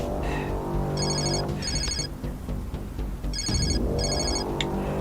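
A cellphone rings with a repeating electronic ringtone, two short bursts, a pause, then two more bursts, loud and clear over a low background rumble.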